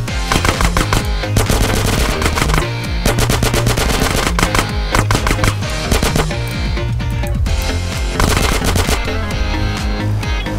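Sustained video game gunfire from a GTA San Andreas DYOM gang shootout mission, rapid machine-gun bursts and single shots in dense volleys, loud and continuous with brief gaps.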